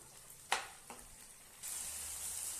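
Ripe tomatoes with onions in a pan: a quiet spatula knock or two, then a soft, steady sizzle rises and holds.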